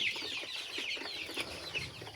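A flock of around five hundred chickens on a poultry farm keeps up a dense, steady stream of overlapping clucks and peeps close by, with no voices.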